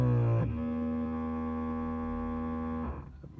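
An ABS pump on a Ford whirring during a scan-tool brake bleed with an Autel MP808, a steady tonal electric hum holding for about two and a half seconds before cutting off.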